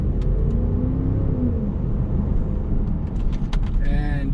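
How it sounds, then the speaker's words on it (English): Range Rover Sport First Edition P530 2023 with a V8 engine giving a low steady rumble from inside the cabin, muted by insulation, with people talking over it. "you can still hear that roar of a V8"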